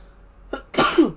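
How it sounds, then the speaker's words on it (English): A single person's sneeze during a live online truck racing stream, a brief sharp inhale followed by a loud, close, explosive burst, heard alone. "I actually kind of have to sneeze, so this is going to be a problem eventually."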